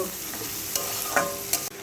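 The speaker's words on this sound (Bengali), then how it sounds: "এইভাবে ভালো করে হালকা হালকা করে ভেজে নেব" Bitter gourd stir-fries in a pan with a soft continuous sizzle, broken by a few light scrapes and clinks of the spatula turning the slices, fairly quiet and without speech.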